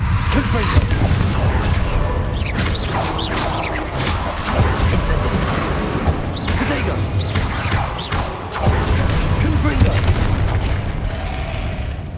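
In the Hogwarts Legacy video game, Confringo spell blasts make loud, dense booms and crashes layered with rumbling game effects and debris, continuing almost without a break, with a voice speaking over parts of the clip.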